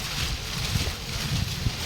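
Strong wind gusting over the Pamban bridge in Tamil Nadu during a storm, a steady loud rush of buffeting wind noise with brief low thumps on the microphone, with no talking.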